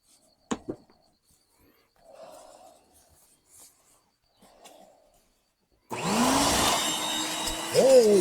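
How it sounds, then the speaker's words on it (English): Faint clicks and rustles come first, then a vacuum cleaner switches on loud and close as it sucks junk from a dirty car interior, roaring steadily with a rising whistle near the end. "Now I got some suction going on."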